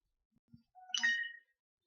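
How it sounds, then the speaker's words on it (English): A phone notification chime rings once, a short bright ding that stands alone and sounds fairly faint and close. "sorry, my phone keeps going off."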